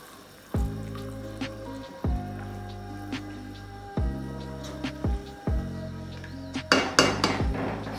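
A metal spoon clanks against a pot as yogurt is mixed into mutton kofta curry, giving several ringing knocks with long metallic decays, close and fairly loud, ending in busier scraping and clatter.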